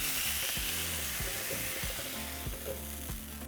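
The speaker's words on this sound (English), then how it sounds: "we're just going to fry them for a couple seconds" Chiles sizzle and crackle in hot oil, a loud steady hiss with occasional pops, heard up close without talking.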